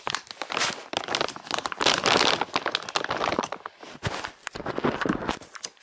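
A plastic gift bag is opened and handled at close range, producing continuous crinkling and crumpling with sharp crackles and rustles throughout, no voices over it.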